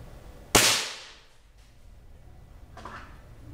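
A single sharp crack from a CBC F18 air rifle fitted with a gas ram kit, firing a pellet, rings close and loud, then decays quickly, followed by a faint mechanical clack a couple of seconds later.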